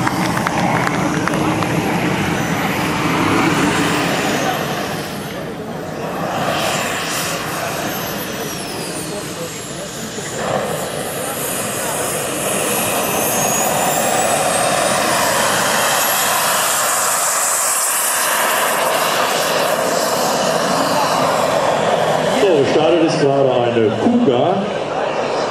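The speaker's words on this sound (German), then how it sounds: "Es ist ein Jet aus den Anfängen der Jetfliegerei." A turbine-powered large-scale RC model Grumman F9F Cougar jet roars steadily and loudly throughout as it flies at an air show, its pitch shifting as it passes, with a loud surge toward the end.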